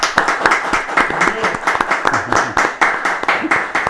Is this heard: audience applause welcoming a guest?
yes